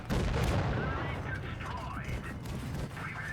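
In the tank game WoT Blitz, a tier 9 ATAC tank cannon fires shells in quick succession. It opens with a loud, booming blast, then heavy rumbling fire and mechanical clatter, with some game tones mixed in.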